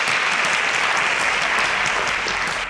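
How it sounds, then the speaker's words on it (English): A studio audience claps loudly and steadily throughout, a dense, even round of applause at a televised student quiz competition. "A round of applause."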